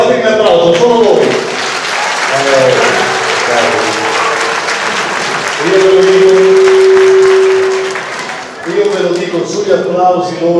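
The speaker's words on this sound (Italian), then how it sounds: "Fatemi un applauso, sono voi." Loud, sustained audience applause fills a gala hall, dense and continuous throughout, with a voice speaking over the clapping and a brief lull near the end before it swells again.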